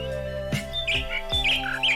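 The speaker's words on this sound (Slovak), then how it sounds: "Toto tak krásne spieva. Slávik." A nightingale singing, bright looping whistled phrases and quick chirps repeating close by over a sustained musical background, with a few sharp sweeping calls between the notes.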